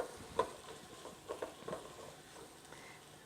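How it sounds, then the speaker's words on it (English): Faint, soft sizzling and light crackles from a pan, punctuated by a few quiet clicks and stirring sounds. "We can hear the sizzle start on that."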